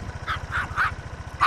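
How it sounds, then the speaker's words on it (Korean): A dog barks fiercely and repeatedly at a motorcycle with its engine running, sharp yipping barks coming in a quick rhythm over the steady low idle of the motorcycle close by. "두부를 데리고 오토바이를 향해 다가가자 더욱 격렬히 짖어대는데요."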